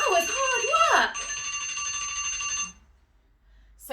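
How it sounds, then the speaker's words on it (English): A timer alarm rings at the end of a one-minute countdown, a steady high electronic ringing held for a few seconds, with a voice speaking over its start before it cuts off. "So the timer has finished."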